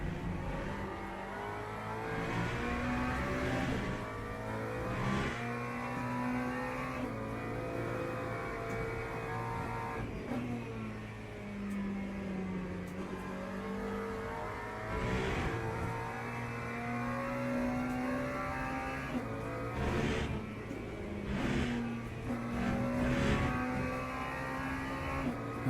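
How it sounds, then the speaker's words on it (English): A McLaren GT3 race car in the Le Mans Ultimate racing game, its engine revving very high and steady throughout, rising and dropping in pitch through gear changes with no talk over it. "This McLaren is revving up incredibly high compared to the RF2 one"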